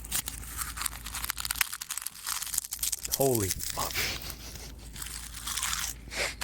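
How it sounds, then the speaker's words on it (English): Someone chews a soft snack close to the mic, giving moist crunching and crinkling bites interspersed with loud chatter and an exclamation. "Chew louder."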